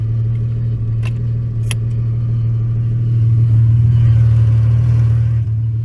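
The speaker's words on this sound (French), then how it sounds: "je démarre au tournevis" An Audi 80 B4 2.8 V6 Quattro, started with a screwdriver, runs with a steady low engine drone that swells slightly toward the end, with a couple of brief metallic clicks early on.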